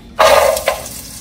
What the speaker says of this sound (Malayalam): അപ്പോൾ നമ്മുടെ ഓയിൽ നന്നായി ചൂടായി വന്നിട്ടുണ്ട് അതിലേക്ക് നമുക്ക് നമ്മുടെ തേങ്ങാക്കൊത്ത് അരിഞ്ഞ് വെച്ചത് ഇട്ട് കൊടുക്കാം